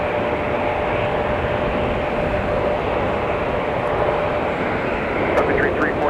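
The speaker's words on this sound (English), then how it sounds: "Sun Country 345 to Orlando, Florida with a Tide Pod 737-800" A Sun Country Boeing 737-800 airliner at Minneapolis–St. Paul Airport during a winter storm produces a loud, steady jet roar that fills the whole stretch without letting up.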